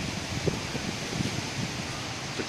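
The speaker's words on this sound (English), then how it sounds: "it's still very windy" Steady roaring wind in Hua Hin, Thailand, buffets the microphone, a dense continuous rush with occasional low gusts and no voices.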